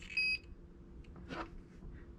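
A short, high electronic beep sounds once near the start as an RC car's engine-sound unit powers up when its battery is plugged in, followed by quiet low background hum and a faint soft click.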